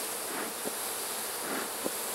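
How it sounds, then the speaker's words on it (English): Honey bees swarming agitated around an opened hive during an October mite treatment, a dense, continuous close buzz with individual bees swelling louder as they pass the microphone, no voices. "there's a lot of bees and they're not very happy"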